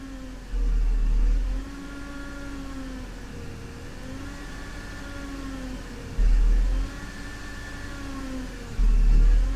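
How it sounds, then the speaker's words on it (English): A Range Rover Sport engine idles close by with a thin, wavering power steering whine from old fluid riding over it. The engine swells into three short revs before settling back each time. "You may be able to hear a whine, and that is old, nasty power steering fluid that will also need to be done."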